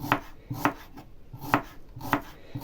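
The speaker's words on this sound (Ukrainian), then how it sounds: "Зараз бістренько наріжу тонесенько" A knife chops an onion into thin slices on a board with quick, evenly spaced strikes, about five crisp taps in steady rhythm, close and clear with no talking.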